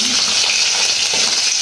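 Fish frying in a pan in a home kitchen, a steady, dense sizzle of hot oil that holds evenly close up for the whole short stretch with no voices.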